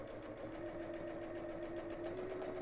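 A sewing machine runs steadily with a continuous motor hum and fast, even needle rattle while stitching all the way around a ladies' evening bag, with no talking.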